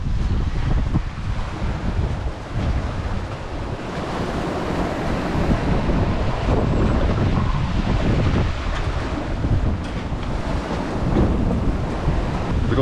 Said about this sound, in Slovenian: Valovi so res veliki, ki so taki dolgi